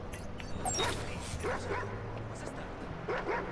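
Dogs in the video game Watch Dogs 2 bark and yip in short scattered bursts over game sound, mixed under an Italian-speaking player's voice.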